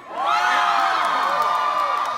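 A live crowd cheers and whoops loudly and steadily, with many overlapping high shouts that swell in quickly and hold for about two seconds.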